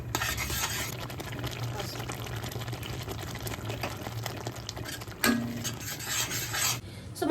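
Masala with onion-tomato paste is stirred in a pan for an egg curry, a continuous close scraping of the spoon against the pan over a soft sizzle, with a louder clink near the end and no talking.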